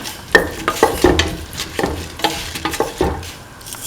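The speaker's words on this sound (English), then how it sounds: "Mix thoroughly." A pan of mung bean and snake gourd stew with coconut milk is stirred, giving repeated scraping clatters and soft knocks of a utensil against the pan over a faint sizzle.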